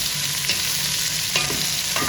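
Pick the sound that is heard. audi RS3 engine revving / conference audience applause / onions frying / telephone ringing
onions frying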